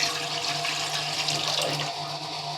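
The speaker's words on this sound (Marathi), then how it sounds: "दोन तांबे पाणी ओतल्यावरती" Two jugfuls of water pour steadily into a cooking pot, a continuous rushing splash with no voices.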